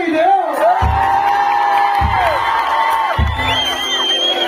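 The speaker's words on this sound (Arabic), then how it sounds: "تصفيق للسيدة" Crowd at a Tunisian live show cheers and whoops for a woman performer, with loud, high, sustained vocal cries rising and falling over a dense, continuous roar of voices.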